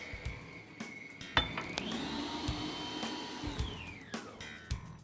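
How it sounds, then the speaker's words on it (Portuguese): An electric stand mixer whirs steadily as it beats the batter for a savory cake made from sponge cake while flour is added, a continuous motor hum that shifts pitch midway and winds down near the end, with a few clinks. "Vou ligar a batedeira e vou colocar rapidamente essa farinha."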